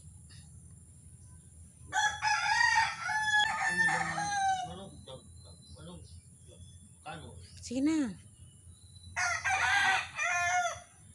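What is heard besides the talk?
rooster crowing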